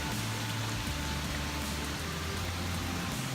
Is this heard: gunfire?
no